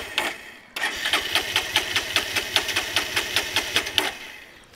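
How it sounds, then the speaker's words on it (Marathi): A motorcycle engine with water in the petrol tank and engine cranks with a rapid, even string of chugging pulses for a few seconds, then cuts out without catching. "एकतर चालूच होत नाही लवकर आणि झाली तर बंद पडते बघा"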